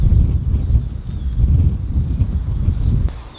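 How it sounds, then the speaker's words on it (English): Strong wind buffets the microphone outdoors beside a narrowboat in heavy low gusts, rumbling unevenly for a few seconds before easing off abruptly. "It's really windy."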